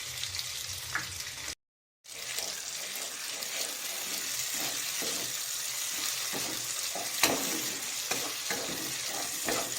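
Prawns and eggplant fry in a pan in a home kitchen, a loud continuous sizzle broken by scraping stirs, with one brief dropout early and no talking.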